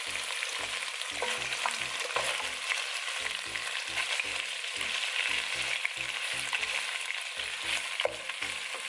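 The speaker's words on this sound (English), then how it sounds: "you want to fry your onions now" Onions frying in oil in a pan, a dense continuous sizzle close up, with a regular low pulsing hum running beneath it.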